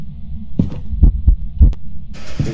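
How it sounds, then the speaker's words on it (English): Rhythmic heartbeat thumps from a Phasmophobia ghost hunt, about five deep pulses spaced evenly and fairly loud, followed by a burst of hissing static at the end. "I keep hearing the heartbeat sound."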